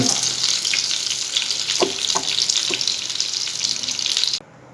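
Chapli kebabs, Peshawar-style Pashtun minced-meat patties, fry in a pan with a steady, loud sizzle and crackle that runs unbroken for over four seconds, with a few soft clicks mixed in, before cutting off abruptly.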